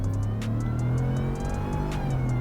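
Whipple-supercharged Ford F-150 pulling hard at wide open throttle, a loud steady engine roar with rising harmonics and a bright supercharger whine, heard from inside the cab with no talk.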